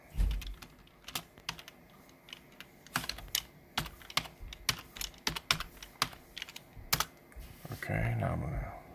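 Computer keyboard clicking in short irregular bursts of keystrokes as a folder name is typed, close and crisp, with a brief rustle near the end.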